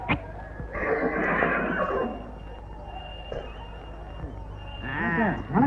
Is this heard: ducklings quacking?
no